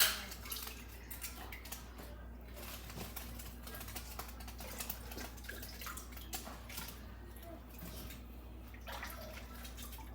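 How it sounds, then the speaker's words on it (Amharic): Cauliflower boils in salted water with cumin, giving faint, steady bubbling with quick ticking pops over a low hum and no talking. "ትንሽ እንደዚህ መፍላት አለበት።"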